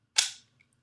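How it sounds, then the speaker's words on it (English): A pistol magazine seated into the grip gives one sharp, loud metallic snap, followed by a faint small click. "Now to load the gun, you put the magazine back in"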